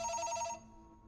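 A telephone rings in the Unfollow horror video game, one short burst of bright electronic trilling that cuts off abruptly, leaving quiet room tone behind.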